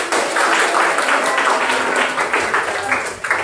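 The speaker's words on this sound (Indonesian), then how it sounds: "Nah, boleh tepuk tangan dulu anak." Schoolchildren in a classroom clap together in quick, loud, rhythmic bursts close by, with some voices mixed in.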